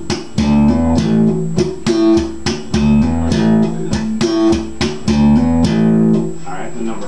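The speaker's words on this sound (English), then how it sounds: "I'm going to use my thumb and my right hand to hit that string and then" Slap bass played by thumbing a string with the right hand and hammering on with the left-hand pinky, a quick repeating pattern of loud percussive popped notes with a short pause before it repeats.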